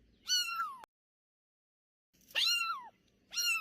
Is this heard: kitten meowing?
yes